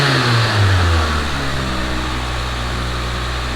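A Pontiac Vibe engine with a C60 transmission revs up sharply with a rising roar, then settles into a steady, loud idle rumble close by.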